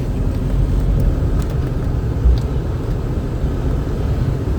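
A 1985 Jaguar XJS HE with a 5.3-litre V12 and a GM four-speed automatic, heard from inside while driving: a steady, loud, low engine and road rumble that barely changes.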